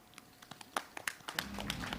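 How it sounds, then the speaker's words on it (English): A small audience at a bio summit applauds with scattered, quiet hand claps at first that grow into a denser, steadier round of clapping. "let's watch the screen with a big round of applause"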